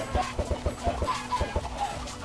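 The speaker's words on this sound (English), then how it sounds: "Oh yeah, spawning them chickens." Flock of Minecraft chickens clucking: rapid overlapping clucks in a steady rhythmic pattern, close and moderately loud, with no talk.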